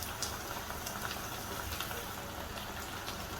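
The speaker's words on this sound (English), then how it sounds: "Now we want to let this cook for a little bit until all the liquid is mostly cooked down" A stir-fry sauce of water and low-sodium soy sauce simmers with chicken in a pan, giving a soft, steady bubbling crackle that stays faint and even throughout.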